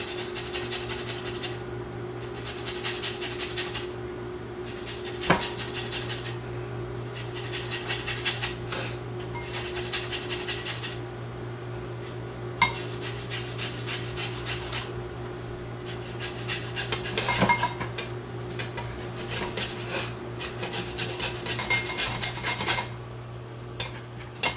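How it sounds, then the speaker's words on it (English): Someone zests a lemon on a grater in a home kitchen, making steady rasping strokes in repeated bursts with short pauses between them, close and fairly loud over a faint background hum. "so we're going to zest the lemon"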